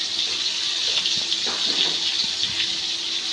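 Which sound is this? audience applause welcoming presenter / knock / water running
water running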